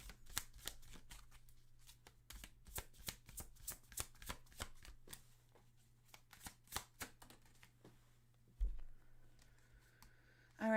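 Tarot cards are shuffled close up in fast, crisp riffling bursts, then slow and stop as a card is drawn, with a few soft handling taps near the end.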